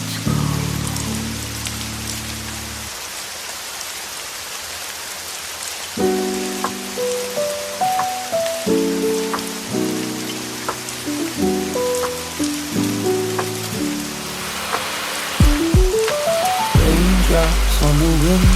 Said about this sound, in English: Raindrops on the window pane,